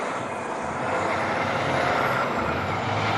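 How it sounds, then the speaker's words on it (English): A loud truck passes close by outdoors, its broad engine and road roar steady and dominant throughout, with no speech over it. "Another loud truck, see if that shows up on the mic."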